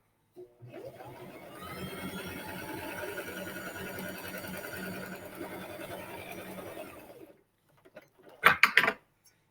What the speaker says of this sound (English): We're going to sew it together.